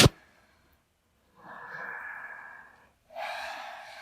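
Slow, deep breaths in a yoga class: a sharp click, a pause, then two long breathy exhalations a moment apart, close and moderately loud, with no talking.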